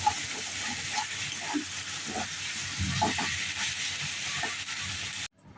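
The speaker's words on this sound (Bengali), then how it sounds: "ভাজাটা প্রায় হয়ে গিয়েছে, ওপর থেকে ডিম ছড়িয়ে দিচ্ছি।" Water lily stems and egg fry in a pan with a steady, dense sizzle and hiss close by, a few soft stirring scrapes within it, cutting off abruptly near the end.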